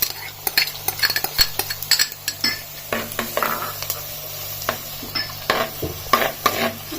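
Ginger is stirred into a hot pan after garlic for a nutmeg pickle, giving repeated close scraping and metallic clinks of a spoon against the pan, with no voices.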